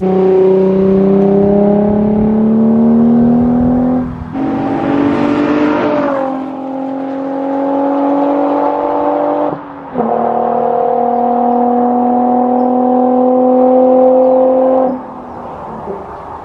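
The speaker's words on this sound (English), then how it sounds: "I went with the muffler delete option, and I think it sounds really good." A loud Nissan 350Z exhaust with the muffler deleted, heard from outside, revving up in a raspy, droning roar, settling, then revving again with a brief gurgle between pulls.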